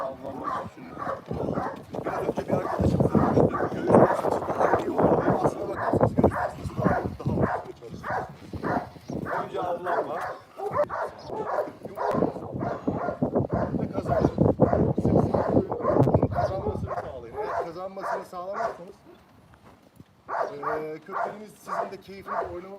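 Pet dog growling and barking in bursts while playing a tug game at home, rough vocalizations repeating close by, with someone talking over parts of it.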